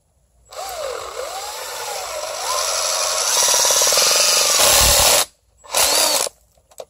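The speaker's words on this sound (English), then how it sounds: "I'm using my impact driver here. I have a bit, 5/8 as far as measurement, and I'm going to drill a hole into this" An impact driver with a 5/8-inch bit bores a hole into an earthen wall, loud and close, its whine rising into a steady grinding roar, then cutting out briefly before a short second burst.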